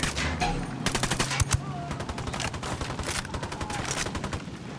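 Gunfire from Ghost Recon: Wildlands rattles in rapid bursts and single sharp cracks, with dense automatic fire from several weapons overlapping over a few seconds at a fairly close distance.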